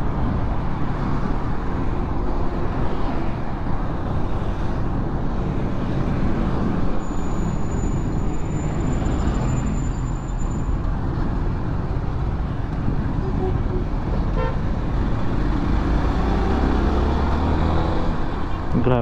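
Dense, heavy road traffic near a bus terminal at a junction on Mabuhay Road in Bulacan: a constant loud roar of engines and rolling tires, with one brief high horn-like tone partway through, no talking.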